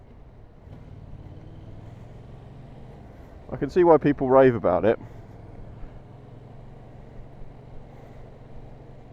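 A Yamaha MT-07 motorcycle engine runs while riding, a steady low drone in the background with a voice talking over it partway through.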